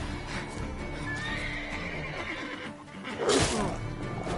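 A horse in The Witcher 3: Wild Hunt whinnies with a rising, wavering neigh amid clip-clopping hooves, then a sharp louder snort or crash near the end.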